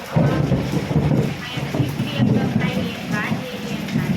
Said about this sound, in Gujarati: હમણાં જ આવ્યો વીજળી થાય છે હાલો જોઈ લઈએ પાણીના ટીપા પાણી પડે